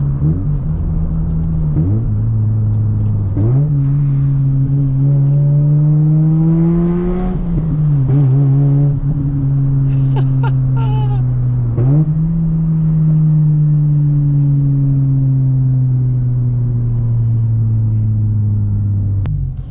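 A Mazda RX8 rotary engine revs hard and steady from inside the cabin during a spirited drive and drift, its tone climbing and dropping through gear changes with loud, continuous drone and no talk.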